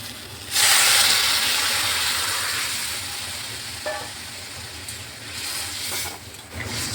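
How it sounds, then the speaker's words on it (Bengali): Water poured into a pan of frying vegetables, pointed gourd with chana dal fritters, sets off a loud sudden hiss that gradually softens into steady sizzling and bubbling, with a few faint clinks near the end. "এখন আমি এর মধ্যে জল দিয়ে দিচ্ছি।"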